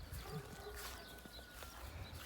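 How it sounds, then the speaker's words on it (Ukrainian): Draft horse mares grazing outdoors, a few soft, irregular hoof thuds and shuffles on the ground, faint and close, with light background ambience. "Припняв своїх кобилків тут, аби трохи попасився."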